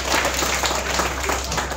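An audience applauds a volunteer at a live snake presentation, with steady dense clapping filling the short stretch at moderate loudness and no voices over it.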